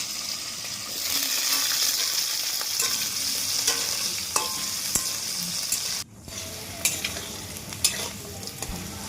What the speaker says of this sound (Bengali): এর মধ্যে আমি আলুগুলো ছেড়ে দেবো আলুগুলো একটু নাড়াচাড়া করে একটু ভাজা ভাজা করে নেব